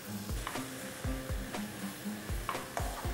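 Onions with salt and cinnamon powder frying in a pan, a steady close sizzle broken by repeated low thumps and clinks of stirring at an uneven rhythm, with no talking.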